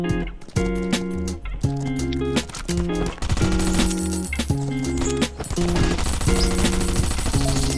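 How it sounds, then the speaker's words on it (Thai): Gunfire rattles inside a house in the survival video game Last Island of Survival, with sharp repeated shots and bursts over steady, tonal in-game music throughout. "ยิงปืนในบ้าน"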